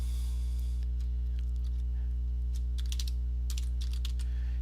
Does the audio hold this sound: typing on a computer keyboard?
yes